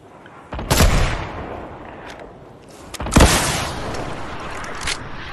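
Two sharp gunshots ring out in a Fortnite match, each a loud, sudden crack about two seconds apart, followed by fainter game sounds and a brief later shot.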